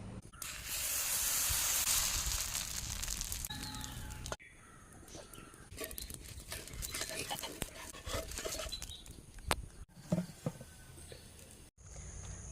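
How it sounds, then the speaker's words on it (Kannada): Hot oil sizzling as fish fries and a tempering for tomato curry goes in, a loud hissing burst for the first four seconds, then quieter crackle with scattered clinks and scrapes. "ಬೇಗನೆ ನಾನು ಮೀನು ಫ್ರೈ ಮಾಡ್ತೇನೆ ಅದೇ ರೀತಿ ಟೊಮೆಟೊ ಸಾರಿಗೆ ಒಂದು ಒಗ್ಗರಣೆಯನ್ನು ಹಾಕ್ತೇನೆ"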